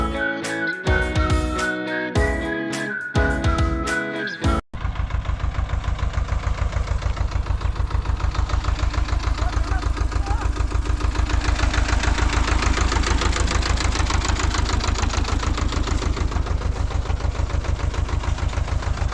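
A small tractor engine runs in a paddy field in Kashmir, a loud steady idling chug with rapid regular knocking pulses that continues unbroken after a brief burst of music at the start.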